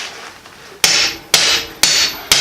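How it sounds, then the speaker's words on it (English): Four sharp, evenly spaced hammer blows ring out close by while a tube is fitted into a tractor tire on a Ford AA Doodlebug project, with nothing between the strikes but a faint background hum. "Tap it with a hammer."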